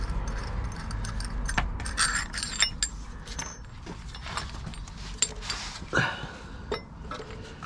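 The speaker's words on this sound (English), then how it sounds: "I just remove nut and washers." Metal nut and washers are taken off a rock slider bolt on a Ford Ranger Raptor chassis, giving a series of small clinks, jingles and scraping metallic taps spread across the moment.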